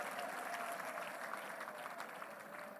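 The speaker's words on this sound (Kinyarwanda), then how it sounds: "Tumuha amashyi menshi." A church congregation applauding in a steady, sustained wash of clapping that fills the whole stretch at a moderate distance, with no break or pause.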